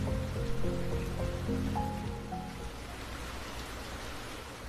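Steady rain falls at night over a village, a dense hiss of drops on surfaces running throughout, with a few faint tonal sounds in the first half.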